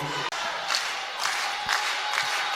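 A volleyball crowd roars and cheers on set point during a Boston College vs. Central Arkansas ACC match, a loud, sustained arena din with swelling peaks throughout.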